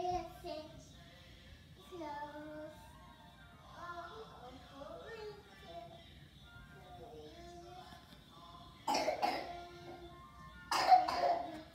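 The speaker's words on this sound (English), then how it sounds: "Cover your mouth when you cough" Two short, sharp coughs from a child ring out close by near the end, after a stretch of talking voices.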